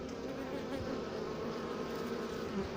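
A wasp buzzing steadily near a bee hive during hive cleaning, a continuous close insect drone that holds for several seconds with no talk.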